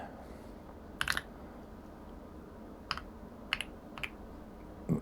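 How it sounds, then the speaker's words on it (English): A few sparse, crisp keystrokes come from a new computer keyboard, scattered clicks and short bursts over quiet room tone with no talking. "So I'm using that new keyboard and it's just so nice."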